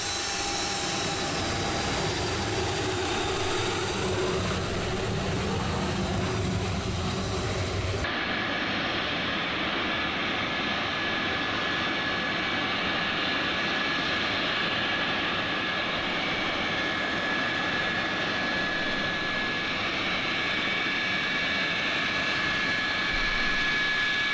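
An aircraft engine roars steadily and loudly at a D-Day 50th anniversary airshow, a sustained broad drone that shifts in tone partway through and carries on without talk.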